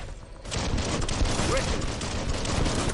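Gunfire in the video game Biomutant, a rapid, dense stream of shots after a short lead-in, mixed with game effects and voice.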